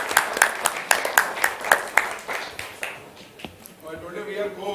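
Audience applause in a hall at a livestreamed event: a burst of sharp, rhythmic claps over roughly three seconds that fades out, followed by murmuring and voices.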